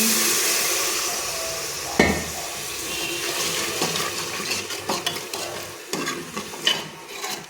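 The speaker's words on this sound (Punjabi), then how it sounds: "ਆਪਾਂ ਚ ਪਾਉਣਾ ਥੋੜਾ ਜਿਹਾ ਪਾਣੀ" Water splashes into a hot pan of frying masala for rajma curry with a hissing sizzle, followed by stirring scrapes and bubbling, with no voices.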